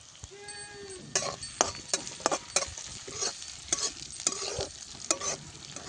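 Crushed onion and garlic dropped into hot oil, sizzling loudly with a series of sharp stirring scrapes and clatters close by, after a brief high animal-like cry at the start.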